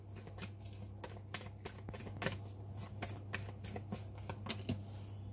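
Tarot cards riffled and snapped down one after another in a steady run of crisp, close flicks and slaps over a low constant hum, with no talk.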